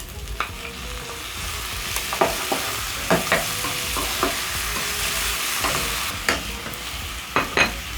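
Pork and tomatoes sizzle steadily in a pan while a utensil scrapes and knocks against it in irregular stirring strokes, close and clear with no talking.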